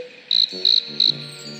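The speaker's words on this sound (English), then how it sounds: "Crickets?" Crickets chirp in a Scooby-Doo video game, three short bright trills standing out over a low musical drone, close and clear, with no voices.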